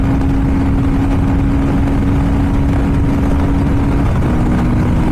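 Royal Enfield Guerrilla 450 motorcycle pulling hard in fifth gear on an open road in strong wind, a loud steady engine drone with one held tone dominating throughout and shifting slightly near the end, heavy wind roar underneath, no voices.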